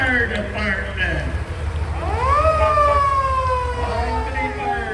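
Albany Fire Department fire engine passing in a Veterans Day parade, its siren winding up into a rising then sustained wail over heavy crowd and engine rumble, with people talking nearby.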